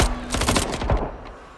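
Erratic bursts of gunfire from a weapon in the video game Deathloop, a rapid cluster of loud shots in the first second before trailing off into quieter reverberant ambience.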